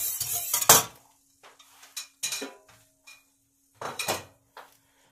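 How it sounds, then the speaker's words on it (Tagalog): Canola, cinnamon and grated lemon mixed in a bowl for a milk pie: scattered clinks and scrapes of a utensil against the bowl, in short irregular bursts with quiet gaps between, fairly close. "Mix well."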